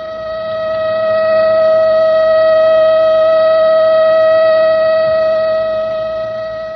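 A siren in a radio drama gives a sustained, steady tone that swells in, holds and then fades slightly, heard on its own without voices.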